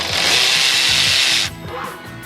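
Power tool with a deep socket loosening a V-band clamp on an L5P Duramax diesel, a loud close whirring burst of about a second and a half that cuts off sharply, followed by quieter mechanical rattling.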